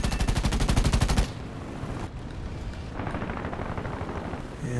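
Rear gunner machine gun fire from a B-18A bomber in War Thunder, a rapid loud burst of rattling shots for about a second followed by a rumbling engine drone.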